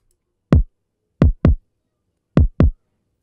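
Squashed, thick kick drum hits with heavy parallel compression: a single thump, then two quick pairs of dense, low booms with no talking.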